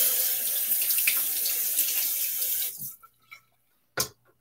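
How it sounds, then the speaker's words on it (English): Running tap water splashes steadily for nearly three seconds as water is scooped onto the face during a wet shave, then cuts off, leaving a few faint drips and one short splash close by. "A little bit of water on the face."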